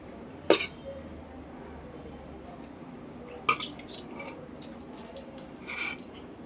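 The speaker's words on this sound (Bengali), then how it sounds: "ভাতটা বেড়ে নিই" Rice is served onto a plate: two sharp metallic clinks of a utensil against the dish stand out, followed by softer scrapes and light taps in a quiet room.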